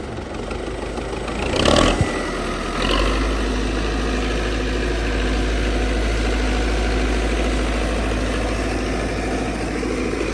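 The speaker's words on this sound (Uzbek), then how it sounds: "Motor holatlari ham o'ta tiniq ishlab turibdi." A Belarus 82.1 tractor's engine idles steadily and close by, a low even rumble that follows a brief louder burst near the start and then holds alone for the rest.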